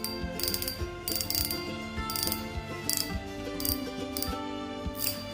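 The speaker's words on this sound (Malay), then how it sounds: "Bagi saya bunyi drag ini oke, bagus." Drag on a low-cost Shimano or Daiwa fishing reel clicking as line pulls out, a rapid ratcheting buzz in repeated bursts of about half a second, close and fairly loud with no talking.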